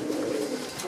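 Pigeons coo in a breeding loft bedded with pea straw, a steady low warbling murmur filling the whole second, close and fairly loud with no talk over it.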